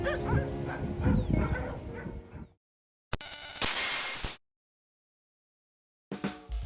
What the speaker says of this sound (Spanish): varios de los perros que habitaban la vieja estructura eran muy poco amigables